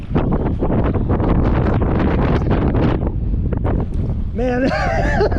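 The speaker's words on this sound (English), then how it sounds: "And the wind just getting buffeted." Wind buffeting the microphone on a boat while catfishing at a dam, a loud, rumbling roar of gusts that runs throughout, under a voice and some excited shouting.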